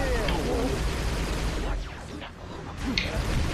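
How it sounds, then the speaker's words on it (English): Dense crackling bursts and rumbling blasts from Halo: Reach Firefight mode fill the clip, a steady barrage of distant-sounding explosions and gunfire with faint voices mixed in. "I hear explosions."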